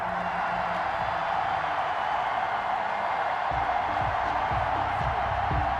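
Home stadium crowd in a Madden NFL 21 football game keeps up a steady, distant roar of cheering throughout, with low thumps and rumbles underneath.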